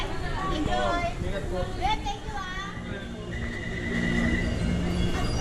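A Taipei MRT metro train rumbles steadily, with wheel and rail noise and a brief high electric whine, while passengers chatter around it throughout.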